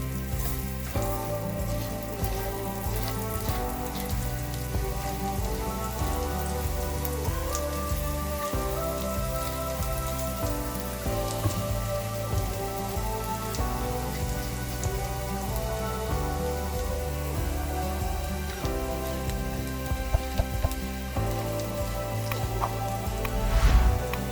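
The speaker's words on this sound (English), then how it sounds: "In the same roasting pan, briefly fry the garlic until fragrant." Garlic frying briefly in a roasting pan, a steady soft sizzle and crackle of hot oil that carries on evenly at low volume with no talking, while music plays throughout.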